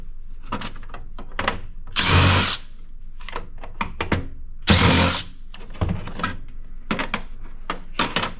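A power tool whirs in repeated short bursts as it backs screws out of electric cash register printers. Close, loud mechanical buzzing alternates with brief pauses and clunks of handling.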